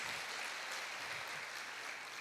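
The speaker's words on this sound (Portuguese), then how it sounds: "Você pode dar uma salva de palmas ao Senhor por isso?" Applause from a church service congregation, a steady wash of many hands clapping at moderate distance, fairly quiet and continuous without speech.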